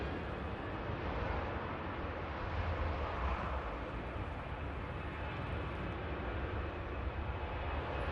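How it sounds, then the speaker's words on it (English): An EasyJet airliner departs Manchester Airport bound for La Rochelle, its engines giving a steady, broad roar that holds evenly throughout, heard at a moderate distance with no talk. "EasyJet heading out to La Rochelle"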